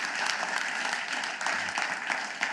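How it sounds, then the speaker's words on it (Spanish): A church congregation claps loudly for the Lord during a Friday evening service, a dense sustained burst of many hands with a few sharper peaks, no voices heard over it. "Le das aplauso fuerte al Señor"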